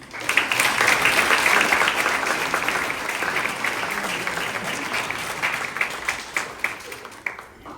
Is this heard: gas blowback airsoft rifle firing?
no